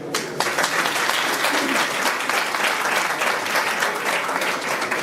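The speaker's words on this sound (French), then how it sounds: "Applaudissez pour eux." Audience applause at the Abidjan Innova 2018 international inventions fair, a dense, steady wash of clapping from a large crowd that holds loud and even throughout.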